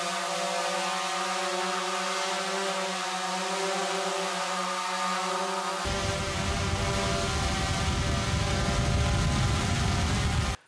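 A small drone carrying a zip-tied thermal camera flies with a steady, high-pitched propeller whine, then the buzz suddenly roughens into a harsh, noisy roar partway through before cutting off abruptly.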